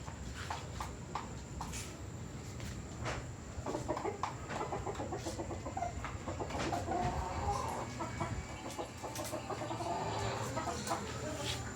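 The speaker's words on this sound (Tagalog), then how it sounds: "Ating mga manok." McLean and Miner blue gamefowl chickens cluck and murmur continuously at close range, with scattered sharper calls over a steady background hum; no talking.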